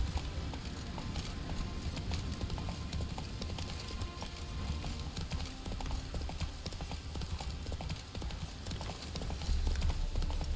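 Horse hooves clip-clopping in the video game The Witcher 3, a steady galloping rhythm that runs the whole time over dense game ambience and music.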